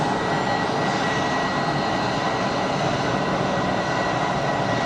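Jet aircraft landing at Geneva Airport with bucket thrust reversers deployed, a sustained loud broadband roar holding steady from start to finish, without voices.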